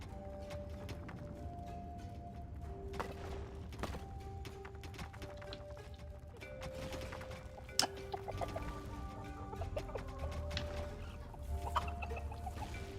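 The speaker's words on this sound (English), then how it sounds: "Here, delicious gobblers were raised to serve as food for the horde." Gobblers raised as food on a farm in the Dungeons 4 video game, fowl-like clucks and chatter sounding repeatedly at low level over a busy bed of game ambience.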